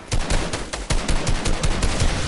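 Assault rifle fire in a PS4 shooter game, a loud, rapid run of close gunshots in quick uneven bursts with no talking.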